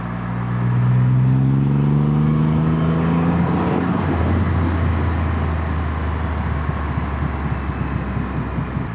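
A Triumph Rocket 3 motorcycle engine revs up hard, its rising tone climbing over the first few seconds before settling into a loud, steady roar mixed with heavy wind rush.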